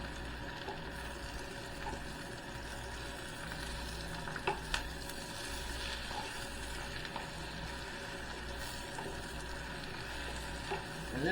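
Spinach sautéing in a pan, a low continuous sizzle with occasional light scrapes and knocks of a utensil, close but quiet and steady for several seconds, with no voices.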